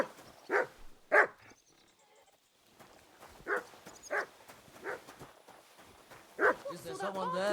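A dog in Kingdom Come Deliverance II barks in several separate sharp woofs, close and fairly loud, spaced across quiet gaps, with a voice speaking at the end.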